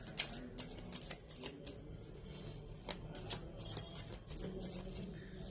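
A tarot deck being shuffled by hand in a quiet room, with a series of sharp card riffles and flicks at an irregular rhythm, close but soft over a faint background.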